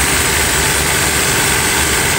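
A high-pressure car-wash pump head, flange-mounted to its motor, runs steadily as a close, constant broadband hiss of spraying water over a low, quiet motor hum, with no voices.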